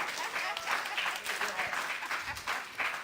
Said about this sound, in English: Y'all give her a round of applause.